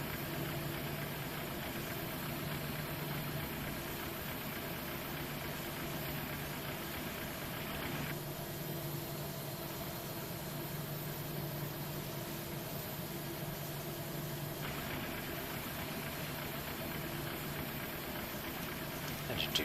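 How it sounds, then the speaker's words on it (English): An aircraft power transfer unit in the Flight Simulator 2004 game makes a steady mechanical hum and whine that changes tone partway through, running without talk over low engine and cockpit drone. "I'll turn the sounds up for you guys so you can hear the PTU."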